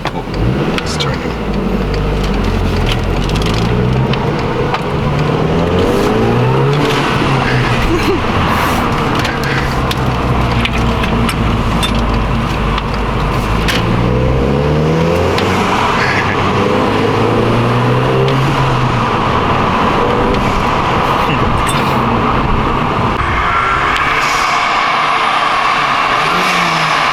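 Volkswagen GTI fitted with a CTS intake, its engine revving up and down repeatedly with turbo spool whoosh rising over the motor drone, recorded close with people talking underneath throughout.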